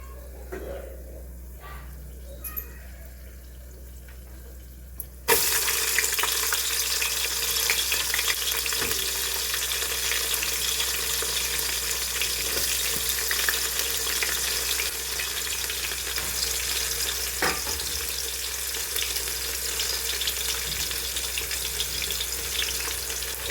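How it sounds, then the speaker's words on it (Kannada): Onions frying in a pan of oil with cardamom, bay leaf and fenugreek greens for biryani, a quiet start then a sudden loud, continuous sizzle that holds steady, with occasional stirring scrapes. "ಸ್ವಲ್ಪ ಫ್ರೈ ಆದಮೇಲೆ ಈಗ ಈರುಳ್ಳಿ ಹಾಕ್ಕೋಬೇಕು"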